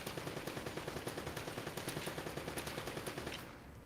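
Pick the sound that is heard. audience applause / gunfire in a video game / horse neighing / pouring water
gunfire in a video game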